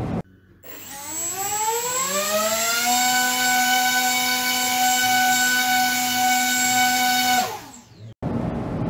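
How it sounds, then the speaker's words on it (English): A pair of counter-rotating propellers on a gimballed test rig spins up from a low whir to a loud, steady high-pitched whine, holds for several seconds, then winds down abruptly, with no talking. "simulating the thrust of the rocket motor using two counter-rotating propellers"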